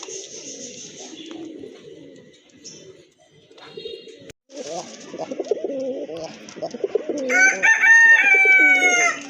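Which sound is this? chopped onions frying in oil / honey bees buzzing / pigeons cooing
pigeons cooing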